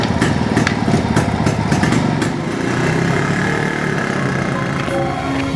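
A 1985 SD motorcycle engine runs steadily and loudly up close, a continuous rough mechanical chugging with rapid ticking and clatter in the first half, then a smoother sustained drone.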